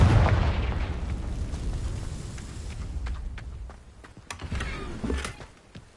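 A Confringo spell in Hogwarts Legacy blasts outward with a loud booming explosion, followed by scattered sharp pops and crackling bursts that fade as the rumble dies away.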